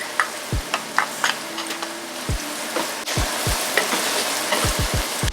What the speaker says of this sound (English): I'm gonna go ahead and add my garlic.